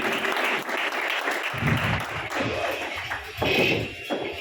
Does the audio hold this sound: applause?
yes